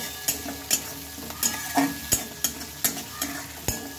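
Chopped tomato, onion and green chillies fry in a pan for a fish curry, with steady sizzling broken by regular, rhythmic scrapes of a spatula stirring about every half second, close and clear, with no talk.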